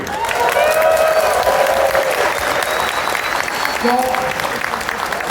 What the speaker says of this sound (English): please give a big round of applause for Bioxy